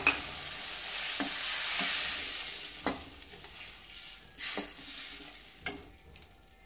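Spice batter for chicken curry with potatoes frying in a pan, a steady sizzle broken by several sharp scrapes and knocks of stirring, close and fairly loud.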